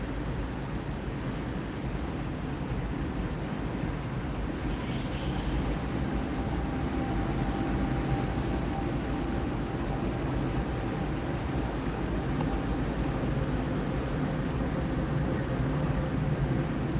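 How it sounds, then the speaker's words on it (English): A train passes by as a steady, broad rumble and rush of noise that stays constant throughout, with faint higher squeals over it and no talking. "There's a train passing by."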